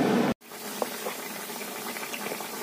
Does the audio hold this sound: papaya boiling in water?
yes